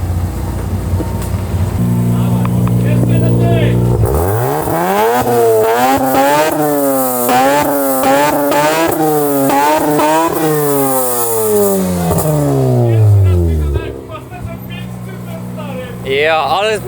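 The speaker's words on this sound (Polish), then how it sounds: "Ale fajnie, bo super reaguje na gaz, widzę." A Honda Civic with a swapped-in D16Z6 engine revs hard and close, rising and falling repeatedly in quick throttle blips before dropping back to idle.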